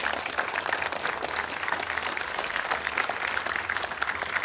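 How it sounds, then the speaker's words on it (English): Audience at a hacker conference talk on Bluetooth Low Energy hardware hacking gives a sustained round of applause, dense steady clapping throughout with no voices standing out. "And please, one more warm round of applause for Daniel."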